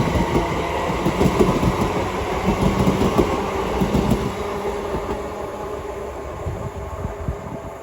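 A Great Western Railway Class 387 electric train, unit 387154, departs Didcot Parkway station on the Great Western Main Line. It gives a loud, close rumble with rhythmic wheel clatter over the rails, fading slowly as it pulls away.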